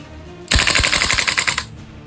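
A VFC Colt M727 gas blowback airsoft rifle fires one full-auto burst of rapid, sharp reports lasting about a second, loud and close, with quiet before and after.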